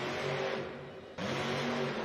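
Thunderoris monster truck engine revving in a Monster Jam arena, a loud sustained roar that dips briefly and then surges back, with no talking.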